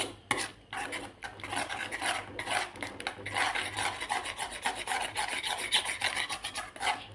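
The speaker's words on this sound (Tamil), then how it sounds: "அதனால் சிம்மில் வச்சு நல்லா கிளறி விடுங்க" A spoon scrapes and rubs around a pan as pasta gravy is stirred over low heat, making continuous rhythmic scraping strokes that are close and moderately loud, with no voices.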